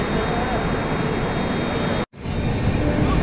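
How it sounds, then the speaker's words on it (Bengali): A train pulling out of Sitarampur Junction, heard as a steady, loud, broadband rumble that cuts out for an instant and then resumes. "আমাদের ট্রেন ছাড়ছে সীতারামপুর জংশন থেকে"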